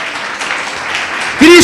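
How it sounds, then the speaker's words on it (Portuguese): A church congregation claps along in praise during a worship service, a steady wash of hands for over a second before a voice breaks in loudly at the end. "Louve ao Senhor com as suas palmas."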